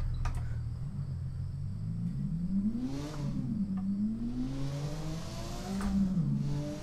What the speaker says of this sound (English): Sounds a little bit better with a V6 in there.